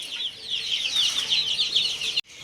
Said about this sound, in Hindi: मुर्गी ने सारे चूजों को कुक कुक करके बुला लिया है